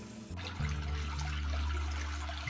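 Water pours and churns steadily through a reef aquarium sump during a water test, a continuous close rushing flow with a low hum, and no talk.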